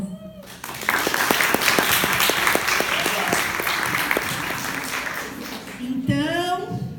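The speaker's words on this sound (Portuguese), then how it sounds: "Bravo. Palmas." Applause from an audience at a school event about student councils in public schools, steady and fairly loud clapping for about five seconds, with some voice-like tones at the start and end.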